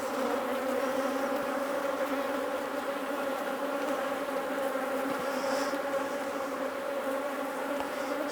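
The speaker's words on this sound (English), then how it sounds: "the bees really are all over my bee suit now" Honey bees swarm close around a beekeeper's suit and gloves during a hive inspection, a dense, steady buzzing drone that fills the whole stretch without a break and with no voices.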